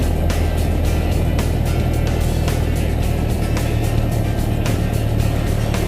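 A Cessna 172 engine roars at steady full power during takeoff, a loud constant drone with a regular pulsing beat heard from inside the cockpit.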